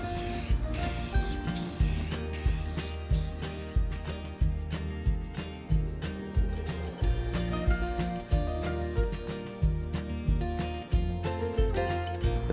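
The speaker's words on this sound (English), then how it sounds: "giving it a coat of spray-on matte finish to seal in the colors" Bursts of matte-finish aerosol spray from a can hiss in short repeated blasts onto a large painted sign, mixed with steady rhythmic beats of background music throughout.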